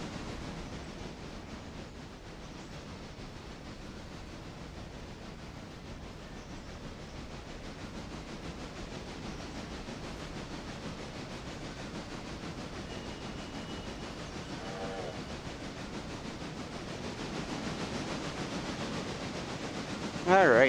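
A train hauls a single rail car at Bryson in the video game Railroader, a low continuous rumble and rolling hiss under faint background sound, steady throughout with a brief louder burst at the very end.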